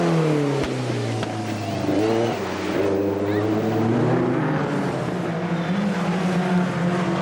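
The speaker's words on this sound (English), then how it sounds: "Cars coming out now for the 20-lap race." Around 22 racing cars of the 1997 BRDC National Supersports championship roll out onto the track, engines droning and rising in overlapping pitch sweeps, loud and continuous with a faint voice mixed in.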